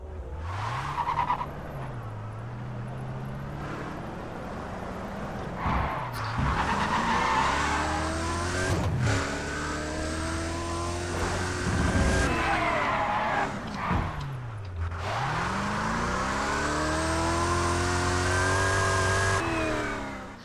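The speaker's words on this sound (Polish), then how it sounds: "także dźwięk silnika ma dość ciekawy" A Jaguar E-Type Lightweight engine in the racing game Need for Speed World roars continuously with tire squeals, pitch sweeping up and down through repeated gear shifts, loud and close.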